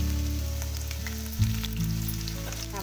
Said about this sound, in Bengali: এবার ওই কড়াইয়ে ওই তেলেই আমি দিয়ে দেবো হচ্ছে টুকরো করে কেটে রাখা রসুন কুচি